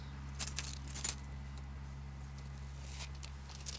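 Keys jangle in two short bursts near the start, during an unboxing of a skate shop order, then the clip settles into a quiet room hum with only a few faint rustles and no talk.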